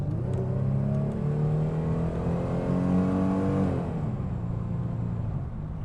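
A 1988 Pontiac Firebird with a 2.8-liter fuel-injected V6 pulls smoothly on the road, its engine note rising steadily in pitch and then easing off as it shifts, a continuous hum heard from inside the car.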